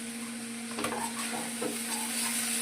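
Garlic paste frying in a pan for an onion samosa filling, a low steady sizzle with a few brief stirring scrapes and knocks against the pan, heard close with a faint background hum.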